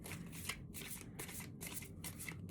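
Tarot cards being shuffled by hand, several rapid riffling bursts with short gaps between them, close and fairly soft, with no talking.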